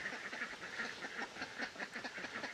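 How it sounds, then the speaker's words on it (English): Ducks on a farm quack repeatedly in a lively, overlapping chorus of nasal calls, close by and continuous throughout. "We got ducks."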